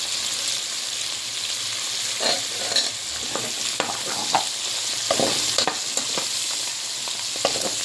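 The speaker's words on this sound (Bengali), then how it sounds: "সব কিছু ভাজি করে নিচ্ছি" Eggs, dried chillies and other shrimp pulao ingredients fry in a pan with a continuous sizzle, broken by repeated scraping and stirring knocks from a utensil.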